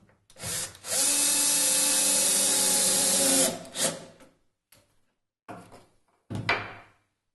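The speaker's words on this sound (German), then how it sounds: "Halten das Ganze fest und schrauben das mit dem Akkuschrauber an" A cordless drill driving a screw through a mounting strip into a wooden cajon body, one long steady whir with a short follow-up burst, then a few brief knocks and handling sounds.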